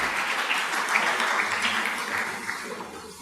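Church congregation applauding during a French-language sermon service, a steady dense wash of clapping filling the whole stretch at moderate level, no talk over it.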